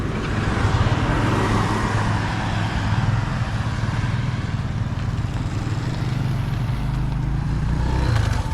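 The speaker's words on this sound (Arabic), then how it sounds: "هذا الموتيره اللي كنا راكبين عليها حنا" A fairly new motorcycle carrying riders on an outing near Ain Skhounate, its engine droning loudly and steadily for the whole stretch with a low rumble and road noise, and no voices.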